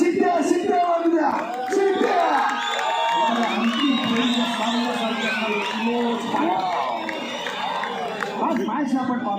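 The crowd at a kabaddi match between Indian Navy and South Central Railway roars with cheers, whoops and shrill whistles. Shouting voices layer over one another in a loud, sustained din.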